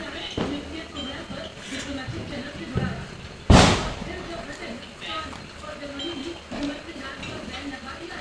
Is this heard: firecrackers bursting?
yes